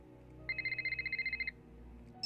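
A stock phone ringtone plays inside the Nancy Drew game The Silent Spy, a rapid trill of bright electronic pulses lasting about a second, moderately loud over a low background hum.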